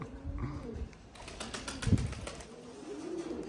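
Pouter pigeons with their chicks coo and rustle close by, soft low cooing under faint wing movement and light outdoor noise, with a brief flap-like burst.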